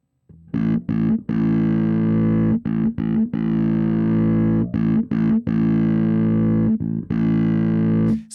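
Electric bass played through the Darkglass Infinity Combo 500 amplifier's distortion engines: a thick, sustained, heavily overdriven low tone rings in long held notes broken by short choppy gaps, loud and alone.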